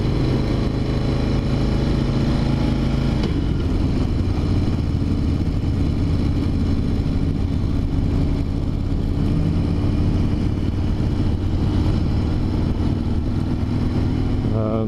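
Harley-Davidson motorcycle engine under way during a first ride, a steady loud low rumble of engine braking in third gear with wind noise throughout and a slight shift in tone after a few seconds.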